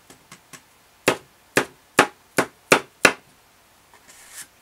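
A card is tapped against a surface to knock off loose embossing powder: three light taps, then six sharp, loud knocks in an even rhythm, followed by a faint rustle.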